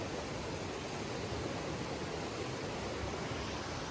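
A roaring river in the Pacific Northwest in winter gives a continuous, even rush of water, moderately faint and steady throughout, with no voices.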